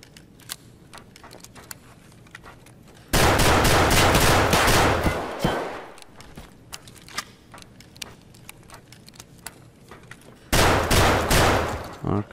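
Gunfire in Escape From Tarkov comes as two long, loud bursts of rapid automatic fire, separated by scattered single clicks and shots, with a voice speaking faintly at times.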